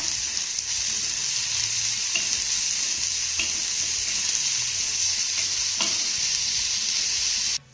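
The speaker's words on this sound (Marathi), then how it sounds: "आता हा कांदा ना आपण चांगला मौसूट होईपर्यंत परतून घेऊया" Finely chopped onion sautéing with poppy seeds and cumin in a pan gives a steady, close, continuous sizzle with faint scrapes of stirring, unbroken for the whole stretch with no talking.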